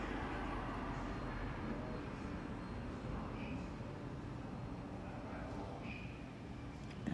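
Distant traffic on a boulevard outside an apartment forms a faint, steady low rumble with no distinct passes and nobody talking.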